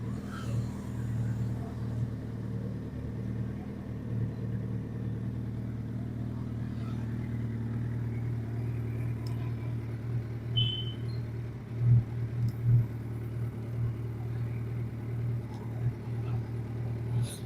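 Car engine idling with its radiator fan running during a coolant test, giving a steady low hum and whir with a few faint knocks, no talking.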